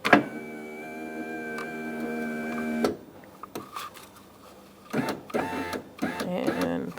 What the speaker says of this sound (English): So now we're going to lower our window regulator down.